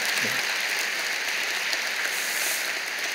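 Church congregation clapping to welcome a visiting guest pastor during a Sunday service, a steady wash of applause that stays even and full throughout.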